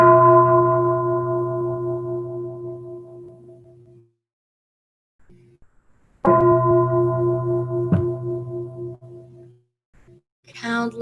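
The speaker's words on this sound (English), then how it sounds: "So let's invite 3 sounds of the bell" A monastic bell at a Magnolia Grove monastery gathering is struck and left to ring out in a long, slowly fading resonant tone. A second strike follows after a pause and a third begins at the end, with faint voices between them.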